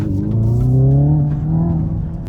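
A Hyundai electric car in drift mode with synthetic engine sound, a loud close droning tone that rises and holds steady before easing off slightly, with no speech.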